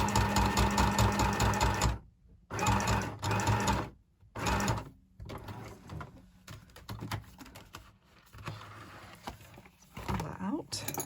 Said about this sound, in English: Sorry, I've only got my little sewing machine,